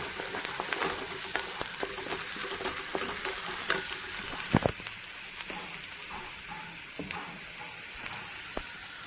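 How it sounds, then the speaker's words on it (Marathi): Onion, fenugreek and curry leaves fry in a pan with a steady close sizzle, broken by scattered sharper crackles and pops throughout, with no voices. "कांदा पण छान असं परतलेला आहे हे बघू शकता तुम्ही मेथी कांदा कडीपत्ता छान असं तळलेला आहे"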